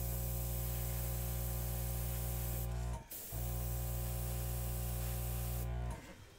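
Airbrush spraying acrylic paint onto flowers, a steady close hiss running continuously with two brief breaks where the trigger is released, no voices.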